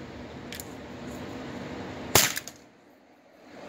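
Crosman 3-inch air revolver firing a single shot: one sharp, close snap with a brief rattle after it, standing out over steady background hiss, then quiet.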